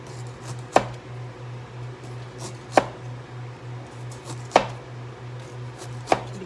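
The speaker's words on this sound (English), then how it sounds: "Now we have the ginger. Just cut it." Unpeeled, washed fresh ginger sliced with a knife for an Indonesian blue crab dish: four crisp, evenly spaced chops about two seconds apart over a low steady hum, no speech.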